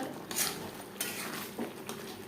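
A spoon scrapes and clinks against a pan while stirring a Kashmiri aloo dum gravy finished with kasuri methi and garam masala, several close metallic knocks spread over a couple of seconds.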